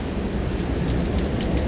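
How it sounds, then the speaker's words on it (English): Water dripping off rocks in a rain-soaked gorge at Watkins Glen State Park, heard as a loud, dense wash of splashing and trickling water that stays continuous and steady throughout. "it's just the water dripping off the rocks"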